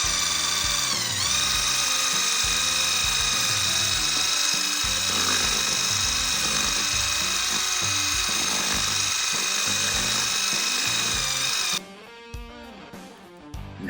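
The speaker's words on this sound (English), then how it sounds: "now I need to give that a thorough mix for 3 minutes" Epoxy resin and hardener being mixed with a power-drill mixer, a loud steady high-pitched whine with grinding rattle that runs continuously at close range and then stops abruptly near the end.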